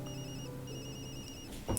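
A work phone rings in the video game Tokyo Dark, a faint electronic trill repeating in two short bursts over a quiet background hum, ending with a soft click.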